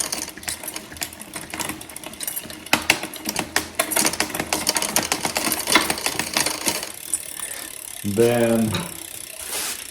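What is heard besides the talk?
rear Shimano derailleur clicking through gears on a Trek bicycle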